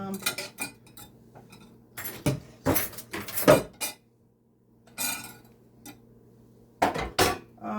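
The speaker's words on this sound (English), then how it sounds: "I think I'm gonna whisk a little bit longer" Metal whisk clinking and scraping inside a pot of Jamaican peanut and oats porridge, coming in irregular bursts of quick strokes with short pauses between them, close and moderately loud, with no talking.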